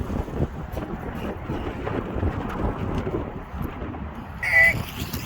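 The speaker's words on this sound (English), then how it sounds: "It's kind of windy here today." Gusty wind at an off-leash dog park buffets the microphone in continuous low rumbling rushes that rise and fall, ending with a brief higher-pitched sound.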